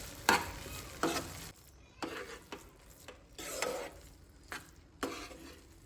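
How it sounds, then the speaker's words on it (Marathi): Food is stirred and mixed in a pan in a home kitchen, about eight soft, scraping strokes spaced roughly half a second to a second apart, faint and close with quiet gaps between them. "सो हे बरें मिक्स करून घेवया."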